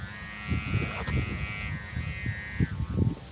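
Thai chula kite fitted with a new southern-style hummer bow, droning in flight as a steady buzzing hum, with wind and outdoor rumble beneath it.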